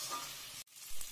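Meat and potatoes fry with spices in a pan, giving a steady close sizzle that cuts out briefly midway and then returns.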